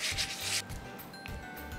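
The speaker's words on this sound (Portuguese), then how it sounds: "A própria fricção dos grãos vai garantir que eles limpem." Grains of rice rub and grind together by hand during washing for barazushi, a rough, hissing scrubbing in close, continuous strokes with short pauses between them.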